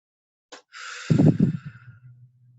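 A slow, deep breath drawn in and then released in a long, soft exhale, close and quiet against silence.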